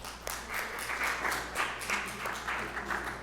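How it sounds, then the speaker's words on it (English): Faint round of applause from a small gathering at a senior citizens commission community event, honoring a cookie shop. Scattered, uneven clapping with soft peaks sits over a low steady hum in a quiet room. "I'd like to give them a round of applause"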